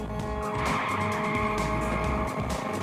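Car wheels lock under hard braking, producing a loud, sustained tire squeal and skid over engine and road roar that runs steadily for nearly three seconds.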